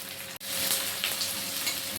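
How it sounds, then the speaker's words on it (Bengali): Chopped onions fry in a wok with a loud, dense, steady sizzle that crackles close up and continuously, broken by one very brief dropout. "এবার আমরা কড়াতে কুচো করে রাখা পেঁয়াজগুলো লাল লাল করে ভেজে নেবো।"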